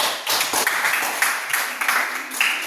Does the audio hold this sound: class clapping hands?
yes